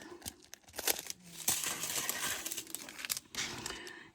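A plastic packet of diamond art drills is cut open with scissors, producing close crinkling and rustling of the packaging with several sharp snips and small rattles of the tiny drills.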